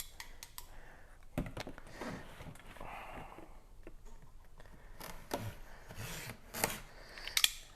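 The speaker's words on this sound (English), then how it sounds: "Get this tape open for you guys." Packing tape on a cardboard box is cut and torn open beside an HPI 1/8 scale RC rally car, giving close, scattered scraping and ripping bursts, fairly quiet, without talk.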